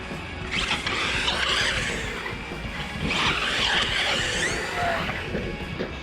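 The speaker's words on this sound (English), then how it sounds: "do I recommend you take your RC car to the skate park?" A radio-controlled car drives around a skate park, its small electric motor whining and tires scrubbing and skidding on concrete in two surging bursts, fairly close, with no talking.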